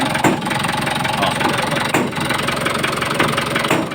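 A Mitsubishi 4D34T diesel engine idles loudly with a steady knocking running through its drone, close and continuous, with a few sharper thuds standing out along the way.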